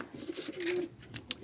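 Soft, low pigeon cooing close by, a short throaty coo against quiet background noise, ending with a faint click.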